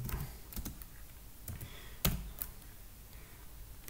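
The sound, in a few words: typing on a computer keyboard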